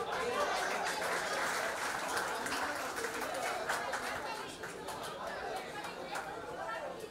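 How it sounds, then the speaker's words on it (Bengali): An audience at a felicitation ceremony for selected police constable candidates claps steadily and loudly throughout, with a dense wash of hands mixed with crowd chatter and a few chuckles. "জোরে হাততালি হোক।"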